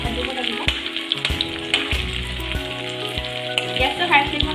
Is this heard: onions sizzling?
yes